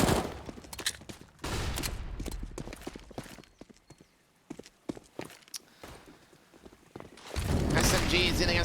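SMG bursts and footsteps come from a Counter-Strike match on the Inferno map, with rapid firing, scuffling movement and a commentator talking over the busy, close game noise that swells loud at the start and end.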